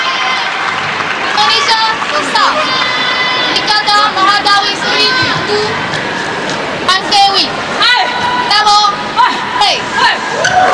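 At a SEA Games women's team badminton semi-final, a loud crowd supporting host nation Malaysia roars without pause, with whistles, shouts and chanting rising and falling under a commentator's voice.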